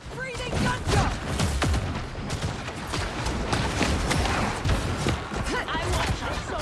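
Video game gunfire crackles in a dense, continuous barrage of sharp shots and thuds, loud and layered with battle noise and no clear gaps.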